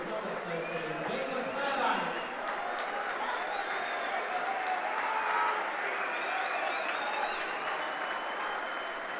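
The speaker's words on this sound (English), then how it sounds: "Round of applause for Jacob Fairbank, who's played 32 minutes of the game" A stadium crowd at a Halifax Panthers vs Wakefield Trinity rugby league game applauds a substituted player, a steady wash of clapping from a distance that holds for the whole stretch while a commentator talks over it.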